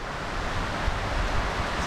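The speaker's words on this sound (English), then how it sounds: "It is absolutely hammering it down with rain." Heavy rain pours down on a remote South Pacific island, a dense, steady broadband hiss with a low rumble underneath, loud and continuous throughout with no voices.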